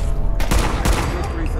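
Gunfire in the Fallout 4 video game, a loud burst of several rapid shots cracking close by over a noisy background.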